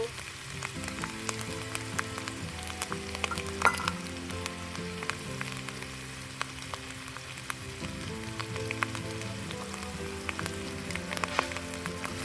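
Tomatoes, green chilies, turmeric and salt frying as a spice masala in a home kitchen pan, a steady close sizzle with occasional stirring clicks under a low background hum, no talking.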